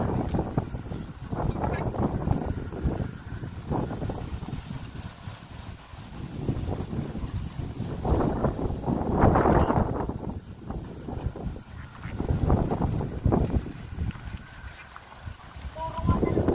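Gusty typhoon wind roars and buffets the microphone in waves, with a rumbling outdoor wash that swells and fades over several seconds.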